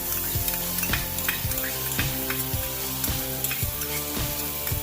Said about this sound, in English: while the butter's melting here, we're going to go ahead and add the garlic